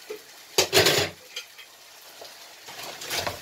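A spoon stirs spiced stuffed grape leaf filling in a pot, with a burst of scraping and clattering strokes, a brief faint knock, then another short run of stirring, close and moderately loud.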